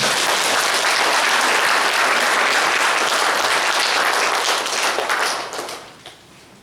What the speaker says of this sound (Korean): 우리 하나님 앞에 감사의 박수 한번 드립니다.